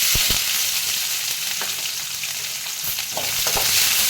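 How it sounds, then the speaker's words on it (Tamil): Green chillies and onion fry in a pan for cabbage poriyal, with a loud, continuous sizzle and a few quick spatula scrapes near the start and end. "பச்சை மிளகா வதங்கிடுச்சு இப்போ நம்ம வெங்காயத்தூள் சேர்த்து"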